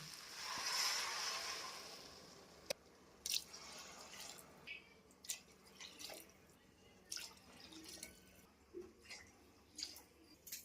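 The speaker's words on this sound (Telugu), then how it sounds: "ఒకటికి గ్లాస్ బియ్యానికి రెండు గ్లాసులు వాటర్ వేసుకోవాలి" Water is poured into rice in a pot for chicken biryani. A brief rushing pour comes first, then scattered soft drips and splashes trail off. The sound is quiet and close, with no talking.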